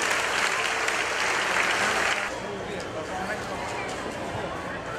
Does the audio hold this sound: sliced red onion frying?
no